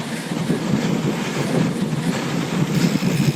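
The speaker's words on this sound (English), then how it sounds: "Man, the wind's kicking." Steady, loud wind buffeting the microphone on a sandy canyon mountain bike trail with small rock gardens in Los Penasquitos Canyon, San Diego, a continuous rushing roar with gusty swells and no pauses.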